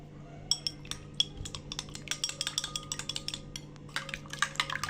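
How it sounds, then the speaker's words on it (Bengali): A whole egg is whisked briskly in a bowl to coat Bengali egg-and-potato chops. Rapid, irregular clinking taps of utensil against dish run throughout, close and fairly quiet, with no voices. "ডিমটা ভালো করে ফেটিয়ে নিব।"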